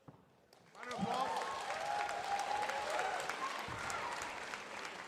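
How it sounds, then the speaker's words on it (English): Audience applause at an MMA fight night builds from near silence into steady clapping and cheering that lasts several seconds, with voices mixed in among the crowd. "Round of applause."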